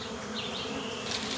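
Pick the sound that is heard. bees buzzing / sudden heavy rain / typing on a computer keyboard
bees buzzing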